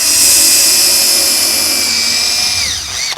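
A power drill drilling into wood for a raised garden bed whines loudly and continuously at close range, its pitch holding steady before dropping as it bites in and stops.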